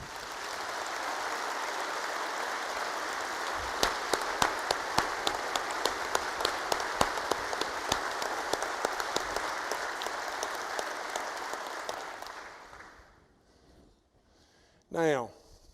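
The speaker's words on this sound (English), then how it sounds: "I'd like you to give a great big round of applause for our chief of staff and all of our secretaries here" Sustained crowd applause at a 2018 State of the State address honoring the chief of staff and secretaries, broad and even with distinct individual claps standing out, fading out before a brief voice near the end.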